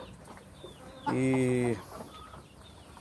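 Chickens kept in a backyard poultry pen give a short burst of loud, harmonic clucking and squawking lasting under a second, with quieter farmyard background noise around it and a brief spoken syllable nearby.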